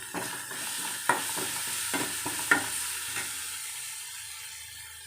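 Onions sautéing with ginger garlic paste for a muchaka curry, a soft sizzle broken by several distinct spatula scrapes and taps against the pan.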